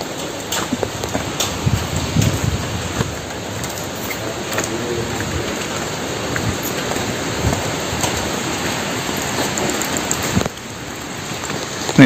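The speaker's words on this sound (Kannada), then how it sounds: "ಸ್ನೇಹಿತರ ಮಸ್ತ್ ಮಳೆ ಬರಾಗತೈತಿ" Heavy monsoon rain pours down near the Ghante Ganapathi temple in Yellapur, Uttara Kannada, a dense, steady hiss of drops on the ground and surfaces that stays loud for the whole stretch.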